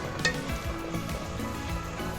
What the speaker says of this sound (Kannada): ಈ ಮಸಾಲೆ ಒಂದು 2 ಮಿನಿಟ್ಸು ಎಣ್ಣೆಯಲ್ಲಿ ಫ್ರೈ ಆಗಬೇಕು